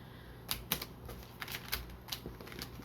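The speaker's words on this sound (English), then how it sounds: "just do some quick other shuffle," Soft, irregular papery flicks and riffles of tarot cards being shuffled, a run of light card-shuffling taps close by, with no voices.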